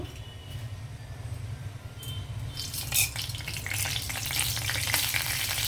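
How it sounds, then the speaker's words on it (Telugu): Mustard seeds, chana dal and garlic tempering in a little oil in a kadai: a steady low sizzle that swells into louder crackling and spitting spatter in the second half, with no voices. "ఫస్ట్ మనం పోపు లేపేద్దాము"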